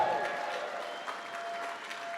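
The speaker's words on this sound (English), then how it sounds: "How about a round of applause for all those 500?" Clapping from guests at a charity gala auction, a steady, moderately soft patter of applause across the room with a faint tone lingering underneath.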